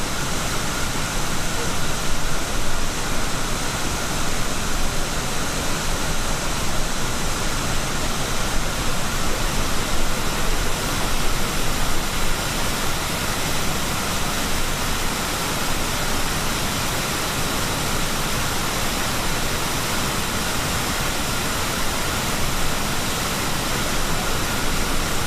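Bald River Falls in Tellico, Tennessee, roars with a dense, unbroken rush of falling water in icy winter conditions, loud and steady from start to finish with no clear voices.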